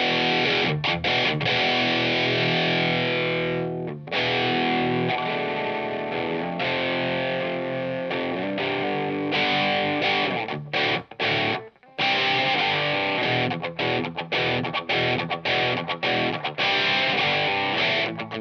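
An electric guitar played through a Blackstar HT50 MKII tube amp with the volume knob shaping its tone, a loud distorted sound with strummed chords and sustained notes that drops out only briefly.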